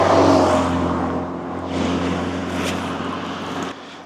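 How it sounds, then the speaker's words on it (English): A car drives past close by, loudest at the start, then its engine and tyre noise swell again and fade out as it moves away, with no talk. "I got out of the way of the car."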